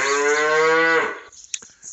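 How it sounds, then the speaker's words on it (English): A cow gives one long, loud, close moo lasting about a second, followed by quieter outdoor rustling. "But I also see more cows coming."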